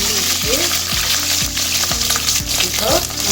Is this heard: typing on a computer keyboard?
no